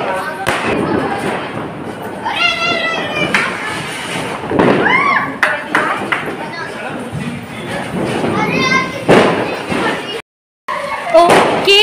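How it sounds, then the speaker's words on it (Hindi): Children set off firecrackers in a residential street at night during Diwali, sharp bangs and thuds scattered through the clip, some close and loud, mixed with talking and crackling whistles. "यहाँ पे छोटे छोटे बच्चे आप देख रहे हैं गली में पटाखे फोड़ रहे हैं।"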